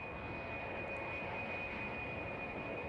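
Concorde supersonic jet airliner in flight, heard as a steady, fairly faint broadband engine roar with a thin constant high whine running through it, no voices.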